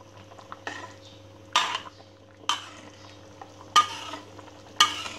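Spoon scraping and stirring Minang sambalado sauce in a pan, with several distinct scraping strokes at a slow, regular pace over a low simmer and no talk.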